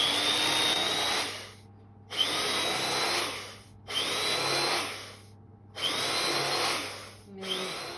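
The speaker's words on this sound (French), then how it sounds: "il faut que je me munis d'un couteau électrique" An electric knife slices through baked croquant loaves in four whirring, buzzing passes, each lasting over a second with short silent gaps between, close and alone.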